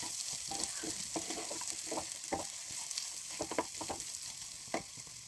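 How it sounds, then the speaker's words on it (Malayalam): Beef fry with pepper being stirred in a pan, a steady close sizzle with a spoon scraping and turning the meat in irregular repeated strokes, with no talking. "വീണ്ടും നന്നായിട്ട് ഇളക്കുക."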